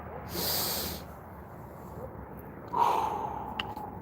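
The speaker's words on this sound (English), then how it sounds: "My belly's out, breathing through my chest, exhaling through my mouth" A person draws a deep breath in, a soft airy rush close to the mic, then after a pause exhales through the mouth in a breathier, hissing release.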